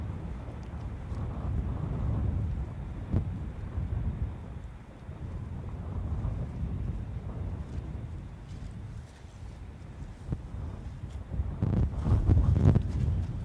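Strong gusts from Storm Bert batter the microphone at Gatwick Airport, making a steady low roaring rumble with faint passing surges and no speech.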